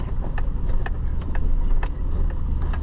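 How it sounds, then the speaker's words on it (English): A Ford Super Duty pickup truck drives past on a farm with a steady low engine rumble and faint intermittent clicks, fairly close and with no talk. "Oh, Super Duty. I love the Super Duty."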